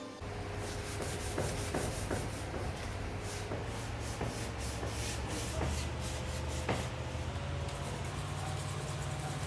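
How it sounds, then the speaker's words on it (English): An orbital sander with sandpaper works over plywood, giving a steady, close whirring rub that stays even throughout, with a few faint tapping clicks along the way and no talking. "Then sanding again with an orbital sander, changing different grids of sandpaper, and finally hand sanding until I achieve the desired finish."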